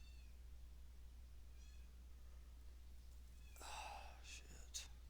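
A crying cat meows faintly in a room, with a few thin calls early on and a louder, closer cry near the end.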